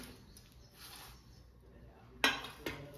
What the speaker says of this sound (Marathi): मी प्लेटमध्ये काढून घेते.